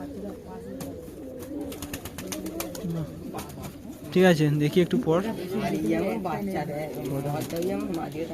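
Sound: Giribaz pigeons cooing

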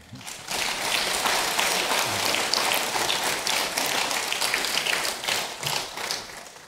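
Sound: congregation applause

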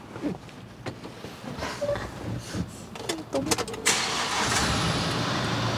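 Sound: 2018 Kia Bongo 3 truck engine starting

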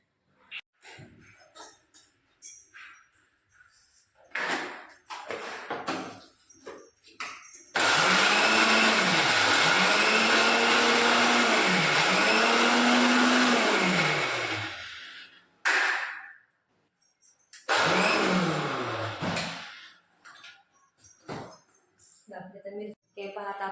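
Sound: mixer grinder grinding garlic, green chilli and cumin

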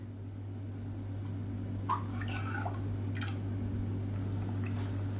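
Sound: gravy boiling in pot

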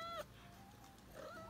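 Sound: cat

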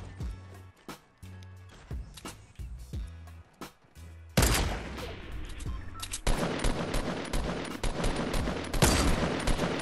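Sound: gunfire in the video game Fortnite

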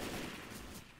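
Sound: gunfire in the video game Left 4 Dead 2

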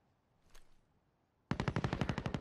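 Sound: gunfire overhead in the video game Warzone

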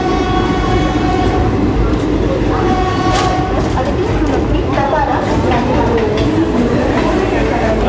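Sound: Garib Rath Express train arriving at Kalyan Junction

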